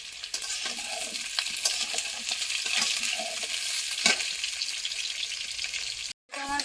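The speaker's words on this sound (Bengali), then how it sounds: "ভেজে নেব" Raw, unboiled potatoes frying in a pan, a continuous crackling sizzle with occasional stirring scrapes, heard close and alone before a brief cut to silence near the end.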